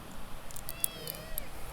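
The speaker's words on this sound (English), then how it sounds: "we have a little kitty." A little kitten meows a few thin, high cries at a distance, faint over steady room noise while a person talks softly nearby.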